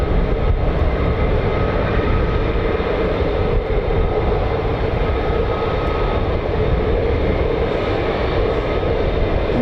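F-35A conventional takeoff and landing fighter jet at RAF Lakenheath, a steady loud roar of jet engine noise filling the whole stretch without a break, broad and rumbling with no voices.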